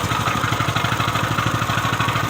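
A 7 HP heavy power weeder tiller engine runs close by with a rapid, steady clattering thump, loud and continuous, and no voices over it.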